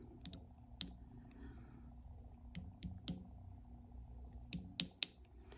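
Small embroidery scissors snip through DMC perforated paper in a quiet room, giving a string of faint, sharp, close clicks at an uneven pace.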